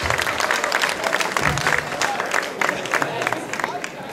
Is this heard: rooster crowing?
no